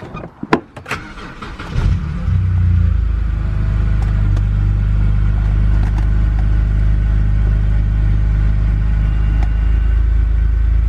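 A car engine that has just had an oil flush and a refill of about six litres of oil cranks, catches and settles into a steady, loud idle rumble that carries on alone to the end. A few clicks come first.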